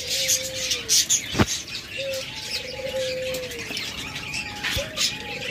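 Pet doves kept for sale call in short tonal coos and chirps, close and clear, with a few sharp clicks and brief squawks scattered among the calls.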